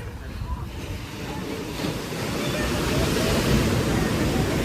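Surf rolling onto Kuta Beach in Bali, a steady broadband wash with wind noise that swells and grows louder through the second half, continuous with no distinct voices.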